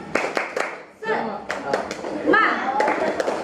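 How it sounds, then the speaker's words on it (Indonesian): A group of schoolchildren in a classroom perform a rhythmic cheer clap, with sharp, evenly spaced claps near and clear, mixed with children's voices chanting and talking in between. "Ayo, tepuk semangat."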